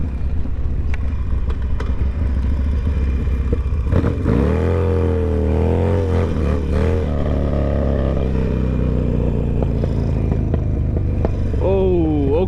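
Motorcycle fitted with Elite EZ pull levers, its engine running steadily and then revving with a clutch that slips as it goes into first gear, rising and falling in pitch close by.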